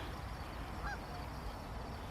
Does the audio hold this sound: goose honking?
yes